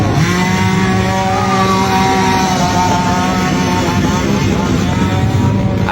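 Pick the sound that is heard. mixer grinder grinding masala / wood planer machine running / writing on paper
wood planer machine running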